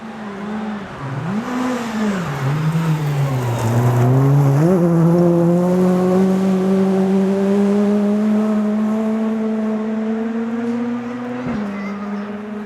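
A rally car on a stage of the 2012 STPR Rally holds a loud, close engine note that dips and climbs through gear changes, then settles into a sustained high drone, with no talk.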